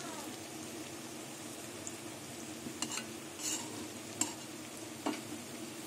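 Jute leaf and poppy seed fritters fry in hot oil with a soft, continuous sizzle. Occasional louder spatters and scraping stirs sound close by.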